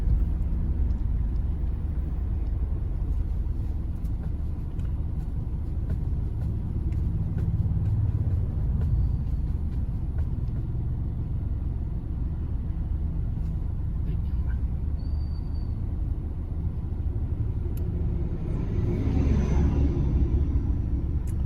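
Congested road traffic on a jammed street, a constant low rumble of idling and slowly crawling cars and heavier vehicles, steady throughout with a swelling engine pass near the end.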